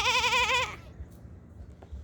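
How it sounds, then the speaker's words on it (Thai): A goat at a farm in Samut Songkhram, Thailand gives one loud, wavering bleat close by. Quiet outdoor ambience with faint rustling follows. "แพะ"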